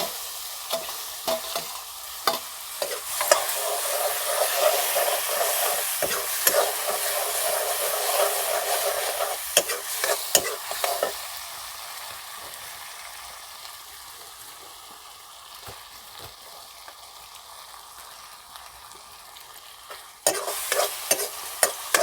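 Boiled colocasia greens being stir-fried in a pan, a steady close sizzle with frequent scraping and stirring clatter that thins out midway, then bursts of stirring return near the end.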